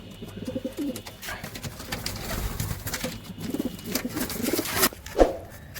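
Pigeons at a loft in Katwa coo repeatedly over a low background rumble, the soft throaty calls rising and falling close by with no talk.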